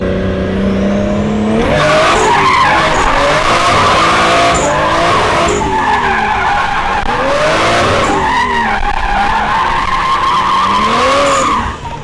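A boosted drift car slides around the LZ Compound, tires squealing and skidding in long sweeping wails over a loud, steady engine roar, close and continuous throughout.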